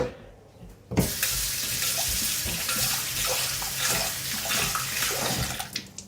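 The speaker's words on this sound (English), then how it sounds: "Wash that off." After a quiet start, a kitchen sink faucet suddenly gushes as a glass jar used for kefir grains is rinsed, the steady splashing stream close and loud with small clinks, then easing off near the end.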